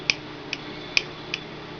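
A Transformers G1 Nautilator toy joint ratchets with four sharp, close clicks spaced roughly half a second apart in a quiet room.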